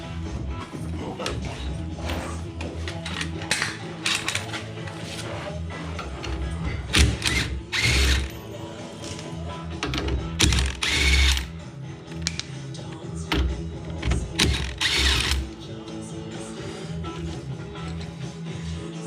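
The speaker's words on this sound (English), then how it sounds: "actually, we gotta pull the old nuts off." A ratchet wrench loosens old wheel nuts on a 2011 Ski-Doo MXZ snowmobile, making close clicking and whirring in several bursts with pauses between them.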